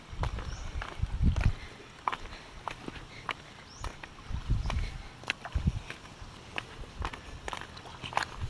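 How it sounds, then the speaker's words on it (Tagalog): A small wooden rowboat crosses open water, with soft irregular knocks and splashes of oars and hull close by, some louder thumps standing out against the gentle background. "Nagbabangka po kami."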